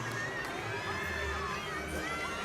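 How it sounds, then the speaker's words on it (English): Gymnastics teammates cheering at a college meet, a faint continuous crowd din with scattered shouts in a large arena, under a voice speaking throughout. "Have her teammates cheering her on really loud."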